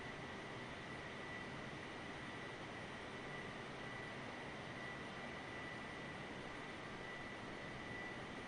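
Airliner engine drone in level cruise inside a flight simulator game, a steady broadband roar with a faint constant whine, unchanging and continuous throughout with no voices.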